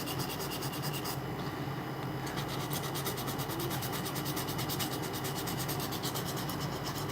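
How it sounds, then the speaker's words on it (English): Steady rhythmic rasping of hand sanding on a heavily corroded Penn 8500ss spinning reel, fast even back-and-forth strokes close up, continuous throughout with no talking. "you guys want to watch me hand sand this?"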